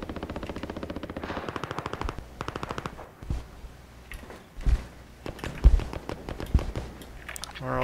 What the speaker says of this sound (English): Where are all these shots coming from?